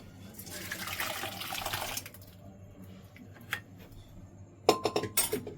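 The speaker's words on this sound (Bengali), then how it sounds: "ডাল সেদ্ধ করে নিয়েছি, ঢেলে নেব।" Boiled dal for sambar is poured, a soft wet rush of liquid lasting a couple of seconds, followed by a few sharp clinks of utensils against a vessel.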